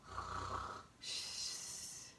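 A man snores in two loud close strokes, a deep rumbling inhale followed by a raspy, whistling exhale, with no talk over it.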